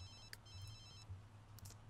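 A phone rings faintly in The Sims 3, a couple of thin electronic chirps over a low steady hum of game ambience.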